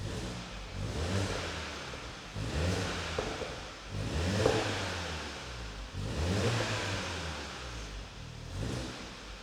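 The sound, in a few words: VW Golf GTI Mk7 engine revving in sport mode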